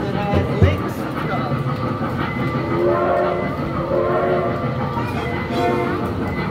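A mall ride train at West Edmonton Mall rumbles along steadily with a clattering, whirring ride noise and a brief knock near the start, voices faintly mixed into the background.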